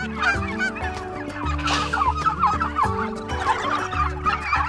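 Turkeys on a farm at Christmas time, a dense flock clucking and gobbling nonstop at close range, many overlapping calls rising and falling with a brief louder burst partway through, no talking.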